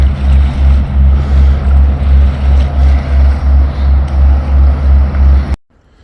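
A boat chugs along the Ohio River with a steady, pulsing low engine throb that holds loud and even for about five seconds before cutting off abruptly into near silence.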